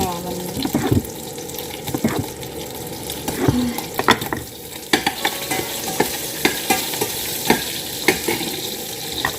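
Canned chicken sausages, four of them, fry in a pan with a steady sizzle and scattered pops and stirring clatter, with kitchen water sounds mixed in.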